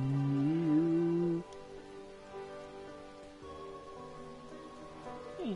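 Rain pours steadily in a Sword Art Online game scene, a constant hiss beneath sustained tonal music that is loud at first, then drops and lingers.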